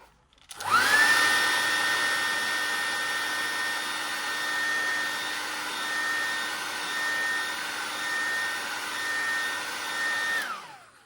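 A small handheld craft dryer starts up and blows hot air in a steady, high-pitched whine with a constant airy rush, close by, then switches off.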